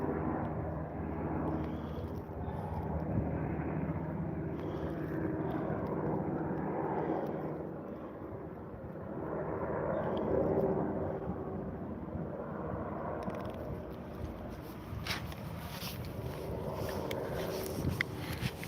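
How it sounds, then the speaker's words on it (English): An air sea rescue helicopter flies overhead near the coast, a loud, steady rotor and engine drone that swells and eases as it passes, with wind noise and no talking. "that is the air sea rescue helicopter"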